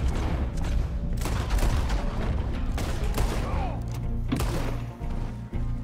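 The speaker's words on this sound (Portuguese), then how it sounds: "agora pode começar o tiroteio" Rapid gunfire crackles continuously in a Wild West shootout video game, with dense overlapping shots and thumps under excited game audio, while voices speak intermittently over the action.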